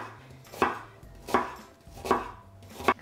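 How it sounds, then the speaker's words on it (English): A knife slices a red onion on a cutting board in four evenly spaced, firm chops, close and clear with no other sound. "Now we're going to cut the red onion in slices"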